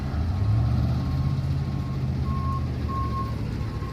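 A tow truck backs up at a three-vehicle crash scene, its reversing alarm beeping in a regular rhythm over a low rumbling diesel engine at moderate distance.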